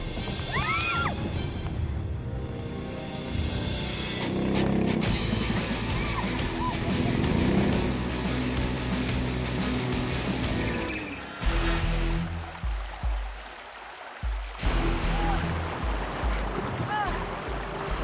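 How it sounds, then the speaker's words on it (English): A steady 16-horsepower motorboat engine drones over rushing water on the Ulot River for a long stretch, with splashes and shifting wind noise throughout. "The boat's 16 horsepower engine and the river's currents combine, blasting us forward"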